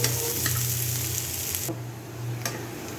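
Spices tempering in hot oil for a bottle gourd and egg curry, a steady close sizzle and fry with soft stirring clinks, continuous and fairly quiet with no talk.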